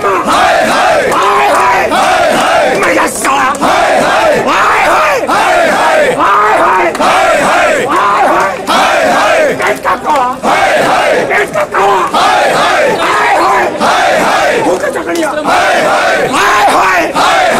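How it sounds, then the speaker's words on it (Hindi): Electricity department workers at a protest chant slogans together in a loud, rhythmic crowd roar, many voices shouting in unison and sustained throughout. "ये क्यों आखिरकार इतने जोरों शोरों से नारे लगा रहे हैं"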